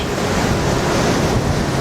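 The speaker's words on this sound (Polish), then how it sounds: "Wiatr silny, duża fala." Atlantic Ocean waves surge at Palm Beach under strong wind buffeting the microphone, a loud, unbroken roar.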